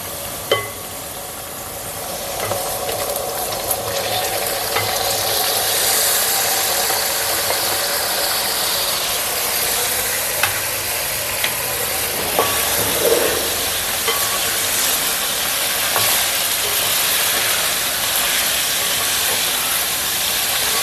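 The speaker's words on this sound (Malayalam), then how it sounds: "ഇനി നല്ലപോലെ ഇതായി വരണമെങ്കിൽ ഒരു പത്ത് മിനിറ്റ് നേരം ഇങ്ങനെ ഇളക്കി കൊടുക്കണം" Lemon pieces are stirred in a pan with popped mustard seeds for a lemon pickle, giving a steady hissing sizzle with occasional scrapes of the spoon. There is no talking.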